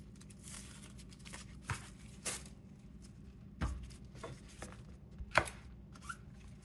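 A knife cuts shallots on a board in a few separate, soft, close thuds and slices spread over quiet moments.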